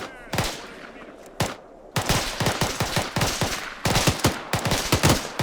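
Automatic gunfire in a war video game set in an alternate-history Second Korean War, with rapid bursts of shots cracking in uneven clusters, loud and close, with a brief lull before sustained firing resumes.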